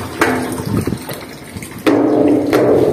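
Water gushes and pours steadily into a tank, surging louder partway through, with no talking.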